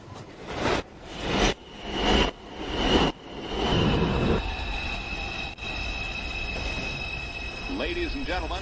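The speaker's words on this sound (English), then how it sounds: "Train approaching the station." A New York City subway train arrives at the Rose Street station, first with rhythmic heavy wheel thumps, then a loud, sustained metallic squeal with ringing high tones as the wheels grind along the rail.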